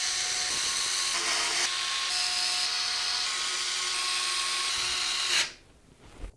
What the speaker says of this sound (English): We can then secure the motherboard to the case with 9 screws from the case accessory box.